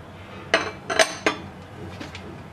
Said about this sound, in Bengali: আবারও বিট করে নিচ্ছি